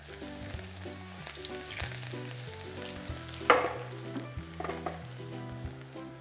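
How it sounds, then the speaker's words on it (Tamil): Paneer pakoda fries in hot oil with a steady crackling sizzle and occasional stirring scrapes, all heard beneath soft background music. "நம்ம இதை ஆயிலில் ஃப்ரை பண்ணிடலாம்."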